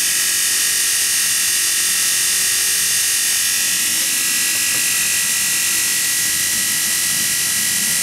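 Rewound Bosch 750W electric motor running at about 2700 RPM, giving a steady high-pitched whine with broad hiss, constant and close for the whole stretch, with no voices.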